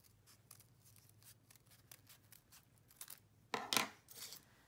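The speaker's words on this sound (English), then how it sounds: "Okay, and you're gonna cut that out." Scissors snipping through folded paper to cut out a petal shape, a run of quiet close crisp cuts, ending in a louder rustle of handled paper.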